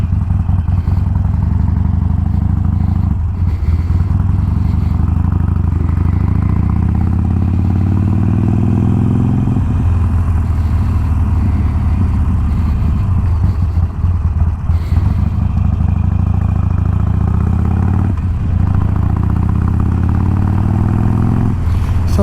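A motorcycle being ridden while still in its run-in period, engine droning steadily and loudly with repeated rises in pitch through the gears and wind buffeting, no talk.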